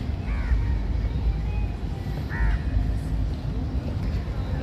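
Crows cawing outdoors at 6 a.m. in Dubai, with two short bursts of harsh caws about two seconds apart, moderately near, over a steady low rumble of early-morning city background.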